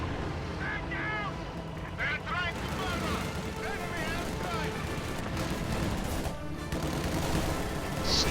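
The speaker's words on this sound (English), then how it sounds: "Stuka anti-infantry strafe comes in and suppresses those shock troops and prompts another retreat" A Stuka anti-infantry strafe in a World War II strategy game, machine gun fire rattling over shock troops amid a busy battlefield din of gunfire and explosions, with a commentator talking over it.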